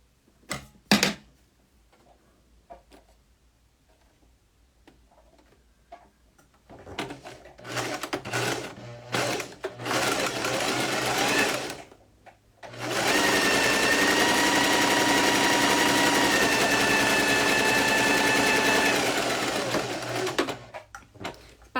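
A sewing machine stitches a French seam: short bursts of stitching early on, then longer steady runs of rapid mechanical whirring, one sustained for several seconds, close and clear with pauses between.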